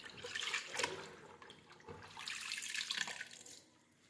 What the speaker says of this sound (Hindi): इसे हटा हटा कर घुमाते हुए धो लेती हूँ मैं अच्छी तरीके से